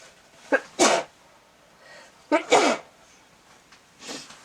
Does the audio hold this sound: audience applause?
no